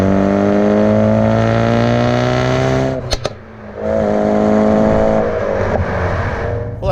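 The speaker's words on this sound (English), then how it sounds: "Now I have it in sport mode, so it is, with the valve open." Ford Focus RS (2016–2018) fitted with a Ford Performance 3-inch active cat-back exhaust, in sport mode with the valve open, revs up in two loud, close pulls with a rising growl, and a crackle sounds between them.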